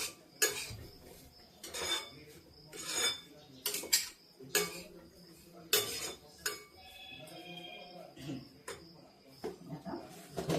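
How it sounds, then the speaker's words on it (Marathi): Semolina roasting for upma in a pan, stirred with a metal spoon that clinks and scrapes against the pan in irregular close strokes, fairly quiet overall. "रवा चांगला परतवून घ्यायचा"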